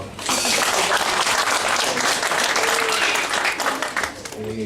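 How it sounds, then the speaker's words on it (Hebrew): Wedding guests give the wedding committee a loud, sustained round of applause. Dense clapping fills the room steadily from start to finish. "ומגיע להם מחיאות כפיים"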